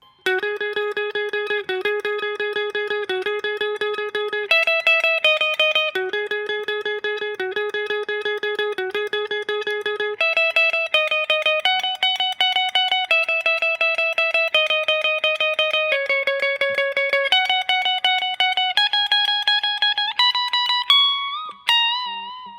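A guitar plays a riff, a clear, bright sequence of plucked, repeated notes in a steady rhythm with occasional bends, played alone and up close.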